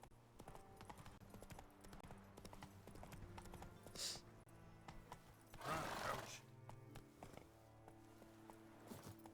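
Horse hooves clip-clopping in a video game, a steady quiet rhythmic trot under game music, with a couple of brief louder whooshes.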